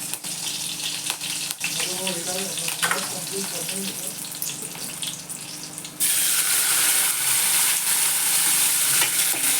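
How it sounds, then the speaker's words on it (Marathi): Crushed garlic and curry leaves hit hot oil in a kitchen pan, giving a steady sizzle that jumps to a louder, brighter crackle partway through, with faint stirring and a brief voice. "थोडा चेचलेला लसूण टाकते कढीपत्ता"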